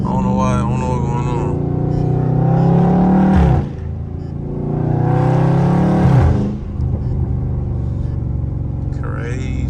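A Dodge Scat Pack's engine revs in two long swells as the driver flutters the gas pedal, loud and close from inside the car, each rise dropping back to a lower idle-like drone.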